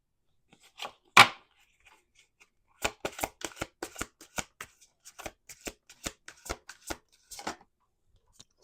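A deck of tarot cards is riffled and shuffled, a sharp flutter followed by a quick run of soft, rapid snaps and taps, close up and quiet.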